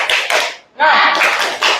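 A primary school class does rhythmic 'tepuk semangat' group hand clapping, loud and close, in two bursts separated by a short pause.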